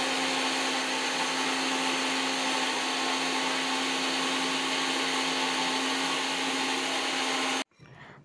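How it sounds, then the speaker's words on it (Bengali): A blender grinds roasted cumin, garam masala and dry rice into powder with a loud, steady, high whirring drone that runs unbroken for several seconds, then cuts off abruptly near the end into quieter room sound. "তাহলে ব্লিন্ডারে ভালো গুঁড়ো হবে"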